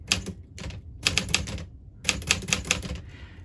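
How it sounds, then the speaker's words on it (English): Smith Corona Silent Super manual typewriter being typed on, with bursts of solid, crisp key clacks in quick irregular runs separated by short pauses, close and clear with no voices. "Do you hear that solid feel to it? The clack doesn't rattle the whole thing."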